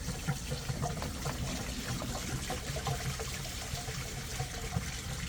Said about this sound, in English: I'm going to pull the bottom hose off and get this draining.